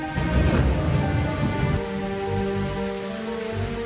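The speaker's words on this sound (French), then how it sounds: "une tempête éclata dehors. Les éclairs déchiraient le ciel et le bruit du tonnerre résonnait" Heavy rain pours steadily while a low rumble of thunder rolls through the first half, then the downpour continues alone.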